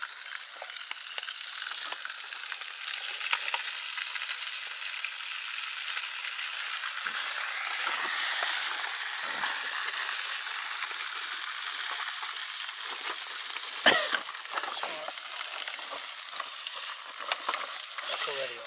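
Food fries in a hot pan at a night camp in the woods, giving a steady, close sizzle with occasional crackles and stirring scrapes and no talking.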